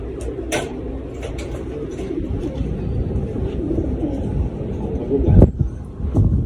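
Trained pigeons coo softly as they come out, low murmuring calls under steady wind noise and outdoor rustle, with a few sharper flutters and knocks toward the end.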